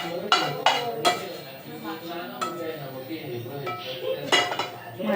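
Dishes and plates being handled in a home kitchen, several sharp clinks and clatters of plates and utensils spread unevenly through the passage, close by, with a voice speaking softly between them.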